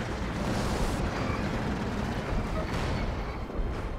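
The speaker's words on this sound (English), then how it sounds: "See, some more artillery is coming down." Artillery barrage in the World War II strategy game Company of Heroes 2, a continuous loud rumble of shelling and blasts with no breaks, and a voice talking faintly underneath.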